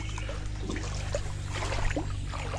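Water trickling from a pipe into a shallow stream, a steady close gurgle and dribble with a constant low hum beneath it, no voices.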